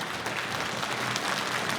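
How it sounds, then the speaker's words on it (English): A short burst of steady clapping from a group at a club's annual general meeting, dense and fairly loud without pause. "You just missed a round of applause"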